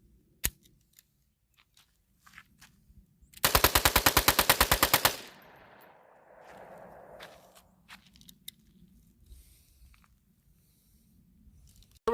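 A Taurus TX22 .22 pistol fires a fast string of about a dozen sharp, loud shots in steady rhythm, preceded by a single isolated shot and some quiet handling clicks, then fading to low rustling afterward.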